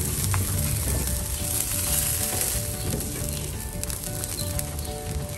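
A beef rib chop fries on a thick griddle over a gas stove, giving a loud, dense, continuous sizzle with occasional pops and no speech.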